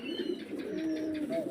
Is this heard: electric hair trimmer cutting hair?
no